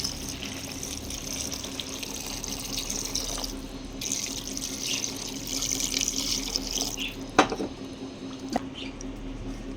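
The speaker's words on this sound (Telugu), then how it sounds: "ఇప్పుడు వాటర్ వేసుకుందాము" Steady running water pours continuously at close range into a pan of small-fish and tamarind-leaf powder curry, with a couple of sharp clinks near the end and no voices.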